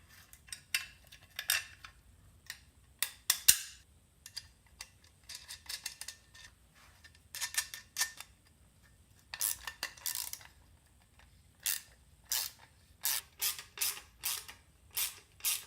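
Metal tools clink and ratchet while a bracket is mounted and bolted onto another bracket for a Weaponar oil catch can, with short irregular bursts of clicking and scraping close by, no talking.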